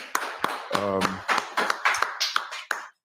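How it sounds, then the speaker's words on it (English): A class gathering claps together at the start of a lesson, giving a series of sharp, loud bursts of applause in an uneven rhythm. There is a brief vocal or tonal sound in the middle. "Clap it up."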